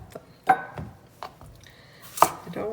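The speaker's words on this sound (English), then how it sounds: "Now I'm going to cut them." A knife chops zucchini and squash on a cutting board in a home kitchen, giving several quiet, uneven taps with no one speaking.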